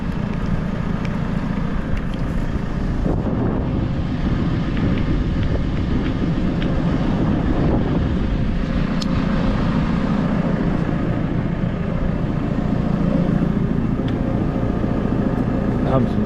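A tractor-drawn muck spreader flinging manure, heard as a steady, loud mechanical roar and churning rumble that runs without break throughout, with voices talking over it.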